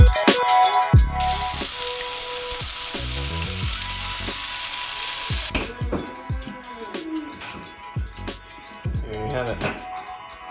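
Red drum fish fillets fry with a bright, hissing sizzle for a few seconds, then fade beneath prominent background music.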